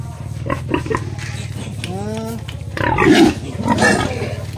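On a farm, a sow and her piglets squeal and grunt loudly during vaccination, the cries rising in harsh bursts near the end over a low steady hum, with someone talking in between.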